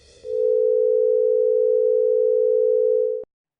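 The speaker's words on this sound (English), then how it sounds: "Here's a 440 hertz sine wave plus a 500 hertz sine wave." Two steady sine tones at 440 Hz and 500 Hz sound together as one continuous electronic tone. It holds at an even loudness for about three seconds, then stops abruptly.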